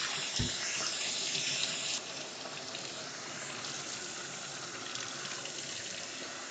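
Cold water runs steadily from a kitchen tap while a cooking pot is rinsed out, a continuous close splashing hiss that is briefly louder at the start with a short low thump.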